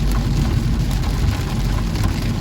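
Heavy rain drums steadily on a car during a violent storm on a drive home from work in Seine-Maritime, a loud, unbroken wash with the low rumble of the moving vehicle underneath.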